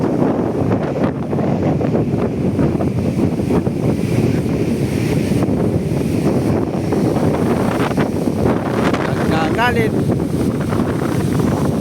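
Typhoon Pepito's signal no. 4 wind roars steadily at Dinahican, Infanta, Quezon, with crashing surf beneath it, a loud, unbroken gusting noise buffeting close by throughout.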